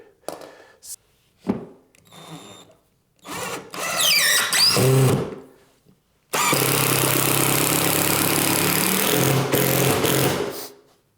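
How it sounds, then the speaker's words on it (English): A power drill bores into a skirting board and drives a screw into the stud behind it, giving short bursts and then a sustained loud whirring run, close by with no talk. "I'll mark a hole in the skirting board where I'm going to drill and then screw"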